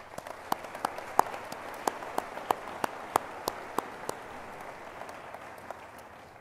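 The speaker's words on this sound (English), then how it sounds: "Let's give them another round of applause." Scattered, evenly spaced claps from a commencement audience greeting a high school band, faint against a quiet hall and thinning out toward the end.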